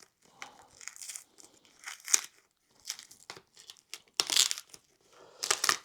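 Plastic tape peeled off a fibreglass motorbike part, giving close, crackly tearing and crinkling bursts in short separate pulls with brief quiet gaps.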